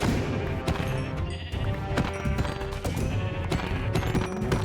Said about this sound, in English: Look, lots of sheep over there.